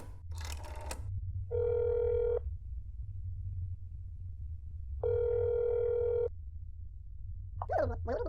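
Phone dialing then ringing in the video game That's Not My Neighbor: a short burst of dialing, two long electronic ring tones separated by a pause, then the start of a voice answering.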